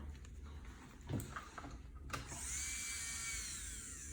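A small electric nail file fitted with a sanding band whirs up to a steady high-pitched whine at slow speed after a couple of faint clicks and handling noises.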